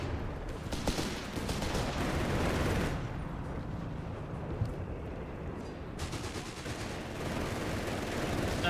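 Continuous gunfire and artillery in Company of Heroes 3: dense bursts of shots and booms overlap in a busy, fairly faint battle din, swelling and easing in waves.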